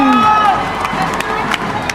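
A large esports crowd at the Mobile Legends MPL Philippines Season 12 Grand Finals cheers and applauds the champions, a broad wash of clapping and shouting that stays loud and steady, with a few voices rising above it.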